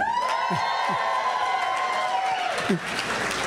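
A comedy club audience at the Tempe Improv applauds and cheers, with sustained clapping and loud whooping voices rising above a continuous crowd roar.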